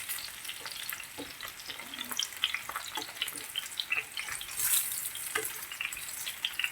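Onions fry in a pan beside potatoes, giving a steady close sizzle with light crackles and the scrape of a utensil pushing them about, with no talking.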